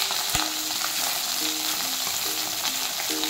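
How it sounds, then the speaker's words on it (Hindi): Whole green chillies, garlic and tomato fry in oil in a pan, giving a steady, close sizzle with occasional stirring scrapes and no talking. "ये सब चीज़ें तो मैं साबुत ही डाली हूँ, सबको आपको फ्राई करनी है अच्छे से"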